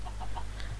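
Minecraft chickens give several short, soft clucks in quick succession, alone over a low background hum.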